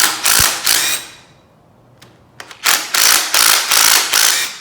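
Half-inch rocker arm bolts on a Ford 400 engine are loosened with a ratchet: sharp bursts of rapid clicking, a pause with a few isolated clicks, then five evenly spaced ratcheting strokes close up.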